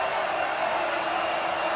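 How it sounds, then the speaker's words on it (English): A football crowd at Nippert Stadium roars in a steady, distant-sounding wash of cheering that fills the whole moment without distinct breaks. "Crowd comes alive here at Nippert."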